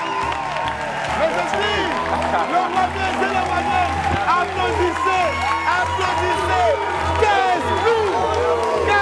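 A studio audience on a French-language television talk show claps and cheers, a dense continuous wash of applause with whoops and shouts layered over it, close and loud, with voices talking through it.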